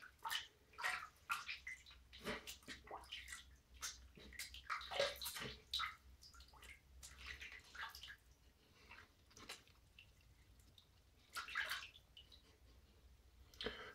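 Water splashing and rinsing at a sink during a shave, quiet irregular bursts of running and sloshing water with drips between them, close and faint, no talking.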